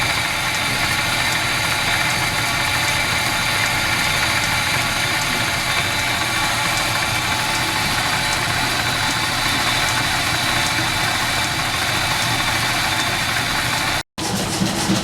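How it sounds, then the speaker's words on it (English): A machine-shop boring machine cuts out the hole in a cast steam engine cylinder head, sized for a 1 inch shaft; a steady loud mechanical drone and hum runs unbroken throughout, with a brief cut near the end. "Boring the hole out in the cylinder head."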